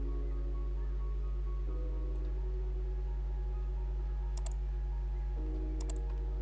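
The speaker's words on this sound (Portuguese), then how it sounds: "Vou dar um clique aqui" Mouse clicks while working with materials and textures in 3ds Max 2023, a few sharp, faint clicks spaced apart over a steady low hum, with no talking.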